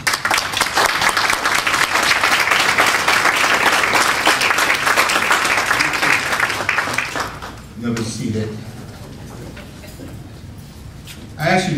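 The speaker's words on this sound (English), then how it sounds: "all of you stand and give yourselves a round of applause" A large standing audience at a community conference claps loudly and steadily for several seconds, then the applause fades away and a voice begins speaking.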